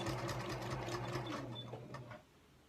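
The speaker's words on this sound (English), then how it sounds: "I'm going to sew just to the outside of that crease" A sewing machine stitching just outside a crease in bias-cut fabric for a tote bag, a close, steady rapid mechanical whirr with a low hum that runs for about two seconds then stops.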